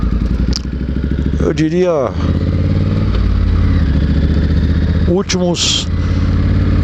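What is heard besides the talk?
motorcycle engine while riding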